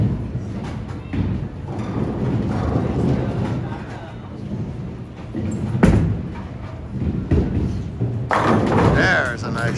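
A bowling ball crashes into pins in a sharp clatter midway through, set amid a tournament's ambient noise while commentators talk nearly throughout.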